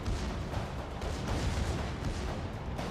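Naval artillery fire in World of Warships rolls on as a dense, continuous rumble of heavy booms at a ship caught broadside, with no voices over it.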